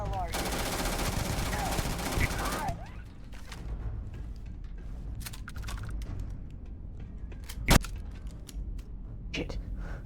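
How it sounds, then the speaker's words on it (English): Enemy gunfire in the game Starfield comes as a sustained, loud automatic burst at first, then settles into scattered shots and clatter with one sharp crack later. "People firing at us."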